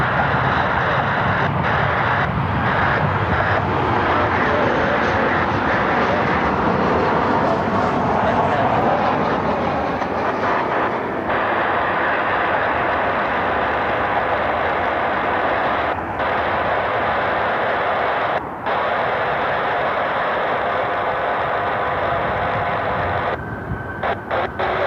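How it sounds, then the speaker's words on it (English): A United Boeing 737 arriving from Newark lands at Cleveland Hopkins airport, its jet roar loud and broad, swelling and then holding as a steady rumble, with brief dropouts near the end. "grab the United 737. It's on final from Newark."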